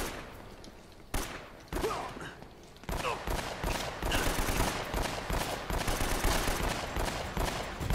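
An AK rifle fires in bursts during a firefight in Uncharted: Drake's Fortune, loud and close, with sharp reports that start sparse, then turn into dense, continuous automatic fire.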